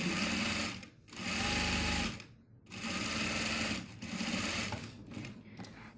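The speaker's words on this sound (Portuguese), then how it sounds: "vamos passar uma costura aqui para segurar esse tecido de forro" A sewing machine stitches fabric lining for a double fabric wallet in several short bursts separated by brief stops, close and fairly quiet.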